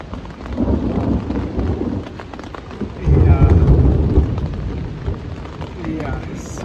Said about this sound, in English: So it's been pouring.